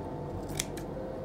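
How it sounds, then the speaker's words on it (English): Scissors snipping through material for a handmade Christmas journal and photo album, a quick close pair of crisp cuts over a steady background hum. "I'm gonna cut this off right there."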